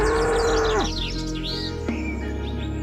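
Cartoon bulls give a long, loud moo that bends downward, then a shorter second moo, over a bright layer of chirping birdsong.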